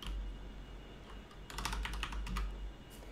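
Keys tapped on a computer keyboard while entering numbers in the Orbiter 2017 space flight simulator, a quiet pause followed by a quick burst of clicks from about halfway through, close and fairly soft over a low hum.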